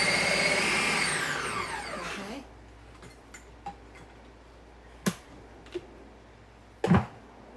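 Basil and olive oil in a blender spin in a steady high whir that winds down and stops after about two seconds, followed by a few sharp clicks and knocks from the machine.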